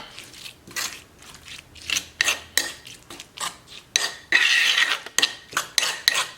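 Utensil scraping and clinking in a bowl while white pepper seasoning is mixed for grilled whole fish, a series of close, irregular metallic scrapes and taps.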